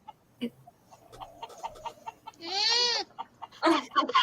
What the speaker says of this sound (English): Oh, there's chickens in the background.